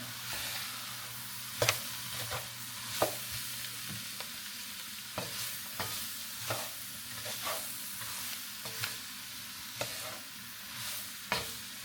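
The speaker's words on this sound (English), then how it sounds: "I'm gonna let this cook down a little while. Let them get a little bit softened." Vegetables for a crawfish stew softening in a black iron pot over medium heat, giving a soft steady sizzle broken by periodic scrapes and knocks of stirring, close up with no talking.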